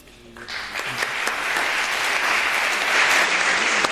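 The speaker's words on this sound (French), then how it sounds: "Vous pouvez applaudir largement." An audience at a talk on eco-designed video games breaks into applause that swells quickly and holds as a dense, steady wash of clapping.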